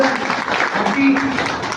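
An audience claps during a speech in Lonavala, a short burst of steady clapping beneath an ongoing voice.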